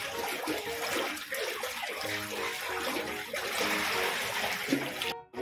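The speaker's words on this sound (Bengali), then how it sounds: "বন্ধুরা দেখছেন জল পাল্টানো হচ্ছে" Water gushing and splashing as a fish seed tank is drained and refilled, a continuous busy rush of pouring water with gurgles, cutting off abruptly at the end.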